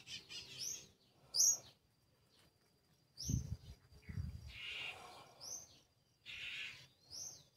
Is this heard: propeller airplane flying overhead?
no